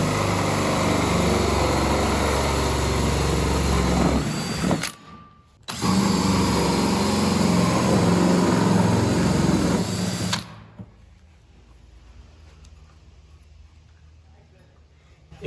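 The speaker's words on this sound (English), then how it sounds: "since we have the hole cutter, we're gonna use that because it makes it super easy" A hole cutter bores through plastic while a DIY chicken feeder is built, with two loud, rough grinding bursts of about five seconds each and a short break between them, then it drops to near quiet.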